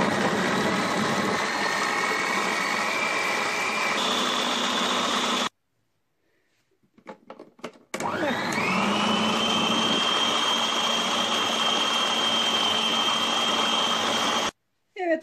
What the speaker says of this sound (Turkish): Şimdi ilk aşamada bunları hepsini birlikte çırpacağım ki ıspanaklar iyice parçalansın.